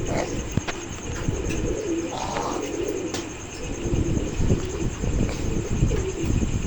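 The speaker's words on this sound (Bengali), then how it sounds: "এই এক জোড়া রানিং কবুতর দেখতে পাচ্ছেন।" A breeding pair of Pakistani high-flying pigeons coos in soft, repeated rounds nearby, with other birds chirping faintly in the background.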